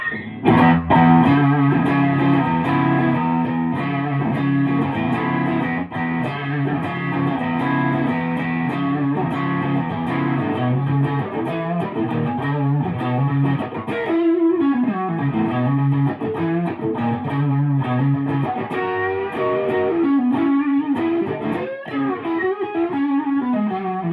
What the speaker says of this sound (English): let me put on some overdrive. I'm gonna go back to the neck.